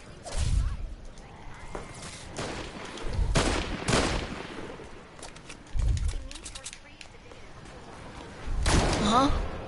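Gunfire from weapons shooting zombies in a video game, several loud bursts of shots spaced through the clip, with talk in between.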